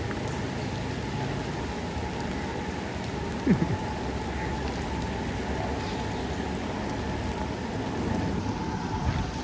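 Heavy rain pouring down in Mumbai, a dense, constant roar of rainfall on surfaces lasting throughout at steady loudness, with no voices and only faint incidental sounds in the background.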